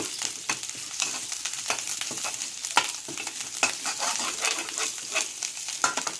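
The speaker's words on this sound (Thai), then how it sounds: "เราผัดพริกแกงให้หอมก่อนนะคะ" Thai curry paste is stir-fried in a pan before pla kot fish and pickled bamboo shoots go in. A close, steady sizzle runs throughout, broken by quick scraping stirs of a spatula, with no voices.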